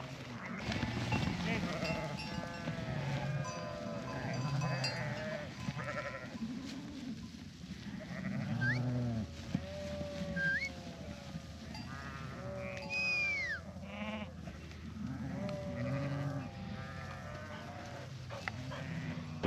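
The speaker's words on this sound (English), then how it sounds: "These sheep have got to go across this and then up that way" A flock of sheep being driven across open country by a herder, with many overlapping bleats near and far, some high and wavering, rising over a constant low rumble as people talk.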